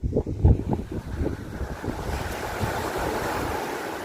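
Waves washing onto the Tyrrhenian Sea shore in Italy, a steady close surge of surf mixed with wind buffeting the microphone, louder in the first second and then holding an even roar.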